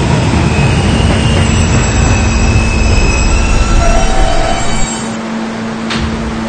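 An R160 subway car on the K line rumbles loudly and steadily along the tracks from inside the train, with broadband roar and faint squealing wheel tones before the noise eases near the end.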